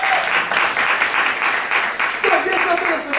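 A church congregation at a Saturday worship service applauds in praise of Jesus, a dense, steady wash of clapping filling the room for a few seconds, with a voice rising over it near the end.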